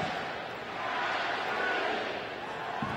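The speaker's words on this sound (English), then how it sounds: "Crowd wanting an early goal" Broad, steady roar of a stadium crowd at an LA Galaxy soccer match against Columbus Crew SC, a continuous wash of massed voices holding level throughout with no single standout shout.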